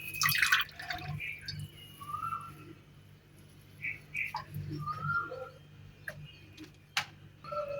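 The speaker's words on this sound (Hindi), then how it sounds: "दबा के हम इसका सारा पानी निकाल लेंगे" Juice from hand-squeezed pulp falls in sparse, irregular drips, each a small clear plink with quiet gaps between. Faint high chirps are scattered among them, and nobody speaks.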